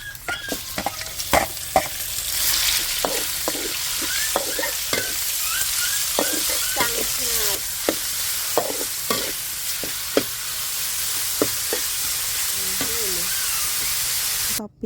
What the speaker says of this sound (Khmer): តពីយើងដាក់ខ្ទឹមបំពងហើយកូរសាច់ជ្រូកជាមួយគ្នា